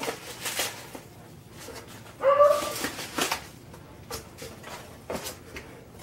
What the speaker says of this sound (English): that's my crazy dog upstairs barking already